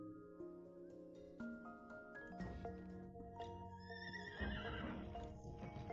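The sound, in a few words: horse neighing and hooves clip-clopping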